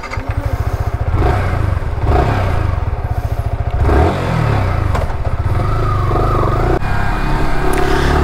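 A 2023 Yamaha R15M V4 sport motorcycle thrums loudly up close while being ridden, its engine pulsing rapidly and rising and falling with throttle, mixed with wind rush and occasional clattering knocks.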